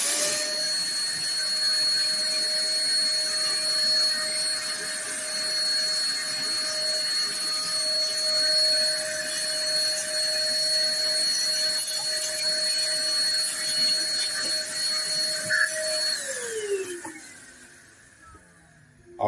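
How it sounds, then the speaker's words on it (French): A vacuum cleaner runs steadily while sucking dirt and debris out of a household heating boiler, a loud continuous whine with a high pitched tone that holds for most of the time, then winds down as the motor is switched off near the end. "Je vais d'abord aspirer un petit peu le plus gros que je peux."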